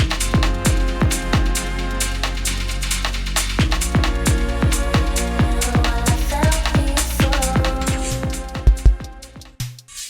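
Heavily distorted synth music, with dense, gritty chords and punchy rhythmic hits, shifts between dry and reverb-washed as the wet/dry balance is automated, ending in a choppy, sputtering tail.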